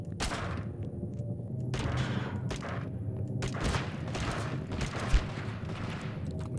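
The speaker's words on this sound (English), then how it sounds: "We have ourselves a firefight." Gunfire crackles through a Totally Accurate Battlegrounds firefight, repeated sharp shots and short bursts spaced across the stretch at moderate loudness, some nearer and some further off, with no voices.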